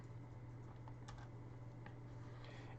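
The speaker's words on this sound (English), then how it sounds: "I'm going to type in number 6" A few light, sparse keystrokes on a computer keyboard while code is entered, faint and quiet against a steady low hum.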